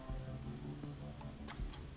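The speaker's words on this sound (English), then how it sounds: "It was this thing ticking across the..." An object ticking steadily in a quiet room, a soft regular tick-tock that stays faint and close under a low background hum.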